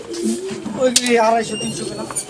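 Pigeons coo softly in the background while someone talks over them at a busy pigeon market in Sarulia.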